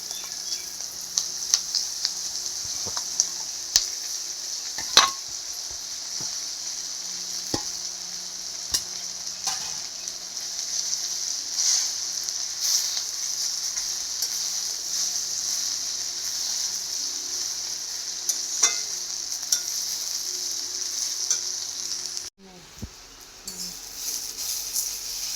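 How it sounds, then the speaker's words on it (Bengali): Jute leaves fry and get stirred in a pan with turmeric, a steady sizzle with scattered scraping clicks from the stirring that runs close and continuous with no talk. "একটু ভাজা ভাজা হবে, তারপর জলটা দিয়ে দেবো।"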